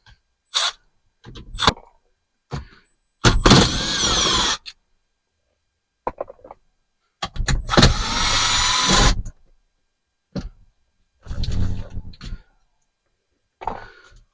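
Power tool driving 7mm bolts out during a car radio install: short bursts of whirring and ratcheting, some lasting a second or two, separated by clicks and silence, close and fairly loud.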